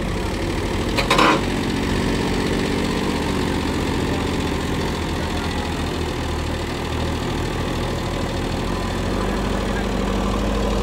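A JCB machine's diesel engine rumbles steadily and loudly up close, called out to free a Mahindra Yuvo Tech+ 265 DI tractor stuck with a heavily loaded trolley; a brief clatter rises near the start, and no one speaks.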